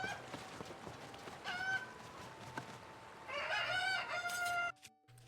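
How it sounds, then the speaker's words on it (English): Chicken in the video game Tears of the Kingdom clucking and crowing, several loud squawking calls over soft game ambience, ending abruptly. "Link, you ruined the funny and disintegrated the chicken"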